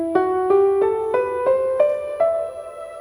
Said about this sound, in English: a natural minor scale sounds like this.